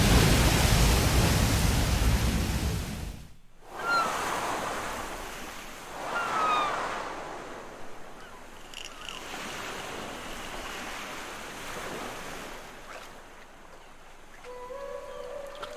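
In the Link's Awakening video game, water rushes in as a loud, broad roar that cuts off abruptly, then gives way to softer swelling washes and quieter surf-like noise.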